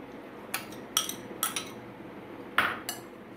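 Prawns are tossed with fry masala in a bowl, giving a few sharp, close clinks of utensil against the dish, spaced irregularly over a few seconds against a quiet background.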